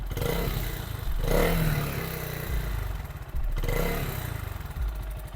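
A Lifan SR220 motorcycle engine runs close by, a steady low rumble broken by a few revs that rise and fall, with some mechanical clatter and no talking.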